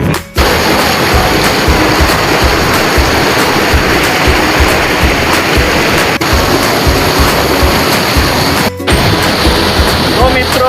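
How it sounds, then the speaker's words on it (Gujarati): The Purna river rushes noisily at a jungle campsite, a loud, dense, continuous roar of flowing water close by with no pauses. "પાણી ખડખડાટ અવાજ સાથે વહી રહી છે"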